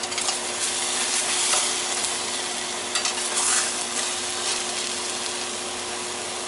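Marinated steak for fajitas sizzles steadily in a hot pan on a burner, a dense close hiss with small crackles and faint scraping throughout, no voices.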